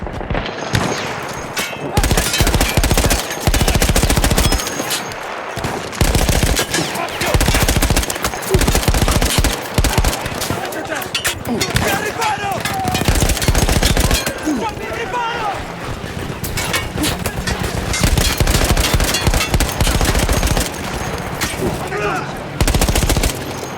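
Machine gun fire rattles in rapid, loud bursts from a mounted gun in the World War I game Battlefield 1, sustained almost without pause and mixed with other shots, booms and shouting soldiers.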